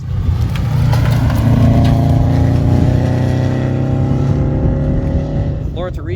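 Rally car engine on a tarmac stage, loud and steady, then easing off as the car brakes for a corner, with a brief squeal near the end.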